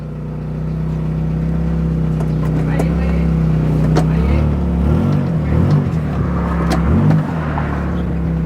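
A 1990s Honda Civic three-door, long parked with sticking brakes, runs at a steady, loud, close idle with a few swelling revs, as people talk over it.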